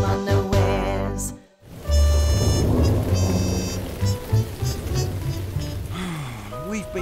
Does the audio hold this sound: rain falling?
yes